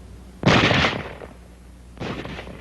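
Military small-arms gunfire: two sharp, loud reports about a second and a half apart, each with a brief echoing tail, with no voices.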